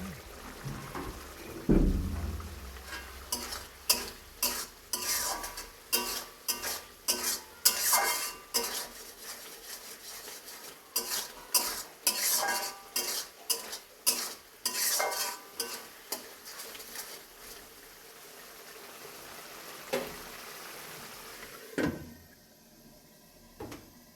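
Olive pickle frying in a pan is stirred repeatedly, giving rhythmic spoon-on-metal scrapes and clatter over a moderate, close sizzle, with a pause and a few final knocks near the end.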